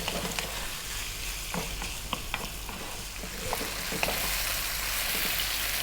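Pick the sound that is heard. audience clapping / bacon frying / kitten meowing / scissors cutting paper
bacon frying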